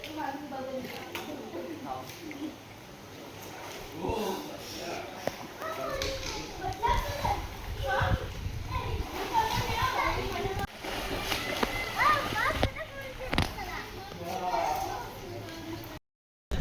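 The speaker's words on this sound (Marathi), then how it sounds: "तर हा मस्तपैकी स्विमिंग पूल." Busy resort swimming pool in Matheran with children shouting and playing, occasional splashes mixed into a steady crowd din.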